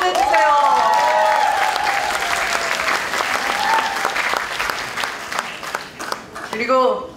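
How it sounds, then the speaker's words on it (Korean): A crowd applauds the outgoing provincial party chairman at a party delegates' convention, loud sustained clapping mixed with cheers and background music, while a voice speaks over it near the end. "그동안 완주해주신 박완주 도당위원장님 박수 한번 보내주세요"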